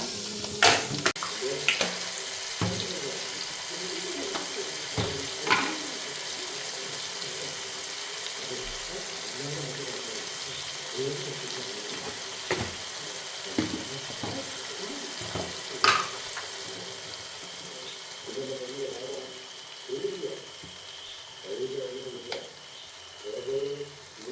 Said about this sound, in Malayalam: വെളുത്തുള്ളി ഇഞ്ചി ഇടുവാണേ